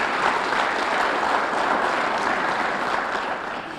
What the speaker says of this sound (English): a nice round of applause for all those good folks.